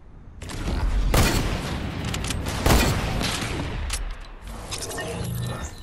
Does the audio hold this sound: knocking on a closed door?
no